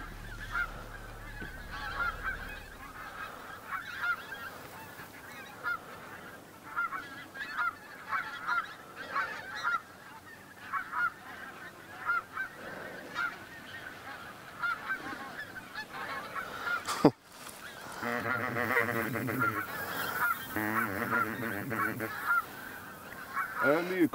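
A large flock of pink-footed geese on farmland in Trøndelag, Norway, honks continuously. The calls are dense, overlapping and fairly close, with people talking at moments beneath the racket.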